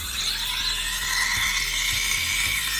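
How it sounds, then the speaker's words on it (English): The steam wand of a Gaggia Carezza Deluxe espresso machine froths milk in a pitcher, giving a loud, steady, close hissing roar with a faint gurgle underneath and no talking. "I open the steam knob again."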